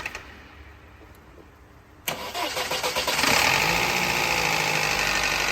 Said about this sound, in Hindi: बहुत ज़्यादा आवाज़ आ रही है इंजन से